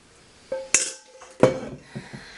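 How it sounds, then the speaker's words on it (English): A small spoon evens out loose toppings on handmade sunshine soap, making a few light metallic clinks and taps, close and isolated, with brief pauses between strikes. "I just get a little spoon to even them out a little bit."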